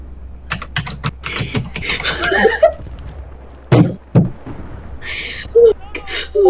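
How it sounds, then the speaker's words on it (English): Fast, hard typing on a computer keyboard, with heavy bursts of keys slammed down, loud and close, broken by brief pauses, with short vocal sounds between bursts. "I like the fact that you have to slam your keyboard in order to get your point across."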